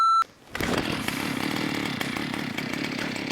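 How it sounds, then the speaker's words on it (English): After a short beep, a chainsaw roars to life and runs loud and close at steady high revs, cutting down trees for a log-framed shed build, with no voices over it. "Once I was actually able to start my chainsaw, I began the process of cutting down a small forest worth of trees."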